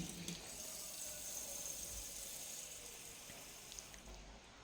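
Water and milk being poured for tea in a home kitchen, a soft steady stream of liquid heard faintly and evenly throughout.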